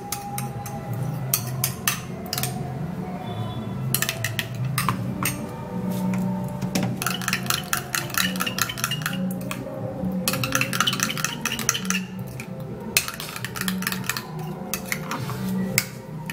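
A spoon stirs a rice starch mixture in a bowl, making rapid, repeated scraping clatters in bursts with short pauses, close and fairly loud, with no talking.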